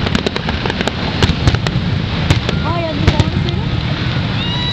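Large fireworks burst over Niagara Falls in a string of sharp, loud cracks and booms at irregular intervals. A steady rumble runs under the blasts, and nearby voices talk between them.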